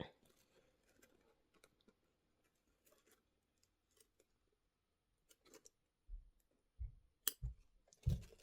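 A ScanNCut machine cutting Fiberform, heard as scattered light clicks and ticks, followed by a few louder thumps and rustles near the end.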